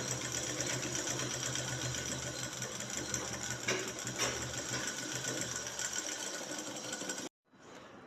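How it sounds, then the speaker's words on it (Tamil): A sewing machine stitches along a shirt collar band with a fast, steady mechanical whir and rapid needle chatter, running continuously before stopping abruptly. "காலர் பட்டி ஓரமாக தைக்கலாம். சென்டரில் இருந்தே தைச்சிக்கலாம்."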